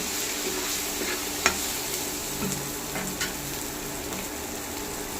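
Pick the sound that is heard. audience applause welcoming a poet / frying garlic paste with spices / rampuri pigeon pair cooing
frying garlic paste with spices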